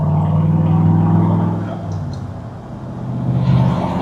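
A 1963 Chevrolet split window custom cruises with its windows down, its engine a low rumbling drone that eases off and then builds again as it shifts up through the gears. Someone talks over the engine noise.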